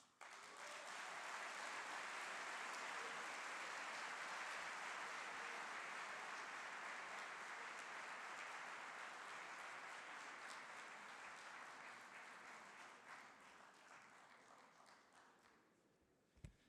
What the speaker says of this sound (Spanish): Otro fuerte aplauso, por favor, para Porfirio Muñoz Ledo